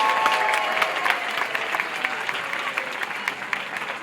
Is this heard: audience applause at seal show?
yes